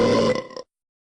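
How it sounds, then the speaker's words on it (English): A single loud, throaty burp lasts about half a second, then trails off abruptly into silence. "Burping like that is disgusting and rude."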